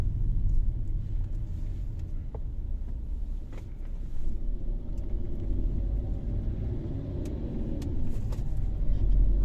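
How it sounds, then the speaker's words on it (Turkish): Steady low rumble of road traffic, cars passing continuously at moderate distance with a constant engine drone and no speech. "Bugün trafik kalabalık."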